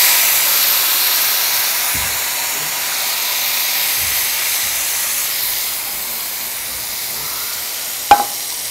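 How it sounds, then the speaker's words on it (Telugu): Squeezed juice poured into hot oil sizzles with a loud, steady hiss that fills the whole stretch, with a few faint knocks and a brief clatter near the end. "ఇప్పుడు మనం బిసుకున్న రసం ఇలా పోసుకోవాలి అదే నూనెలో"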